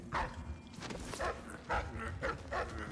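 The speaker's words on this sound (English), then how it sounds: "Okay, that dog does not look happy to see me, admittedly." Dogs in the stealth video game Dishonored 2 bark and yip in short repeated bursts, fairly close, with a faint whimper between barks.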